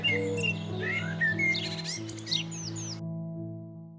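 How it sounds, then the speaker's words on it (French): Birdsong from a goldfinch and Eurasian collared doves perched in a neighbour's cherry tree: bright chirps and twittering phrases near and clear for three seconds over a steady low hum, then stopping abruptly. "J'observe un chardonneret et des tourterelles turques posées dans le cerisier de la voisine."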